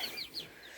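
Padovana chickens in a backyard flock give a few faint, quick clucks and chirps in under a second, soft and slightly distant.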